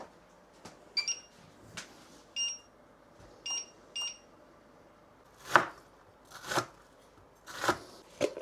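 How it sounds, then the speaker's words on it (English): Several sharp knife chops on a board while chopping onions, spaced irregularly, with a few high metallic clinks in between; close and fairly quiet, no talking. "while we're chopping the onions, I can preheat my Dutch oven already."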